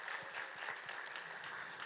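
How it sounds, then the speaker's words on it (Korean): A church congregation claps together during a Sunday service to welcome a returning missionary, a steady, dense applause that holds at even loudness for about two seconds with no voices over it. "큰 박수."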